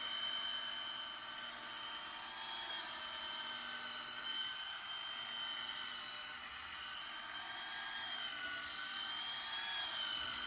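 A Braun MultiMix 5 hand mixer runs steadily with a smooth, high-pitched motor whine, close and continuous for the whole stretch with no talking.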